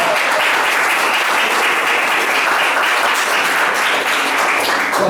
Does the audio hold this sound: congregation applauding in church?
yes